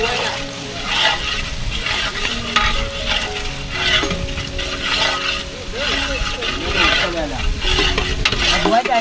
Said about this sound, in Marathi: लसूण टाकले आता. कांदा मस्त हे झाला परतले बघा लाल झाला मस्त.